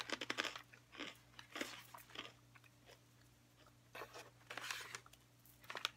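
Crisp crunching and chewing of a dried sweet potato snack, close and quiet, in several irregular bursts of bites and munching separated by brief pauses.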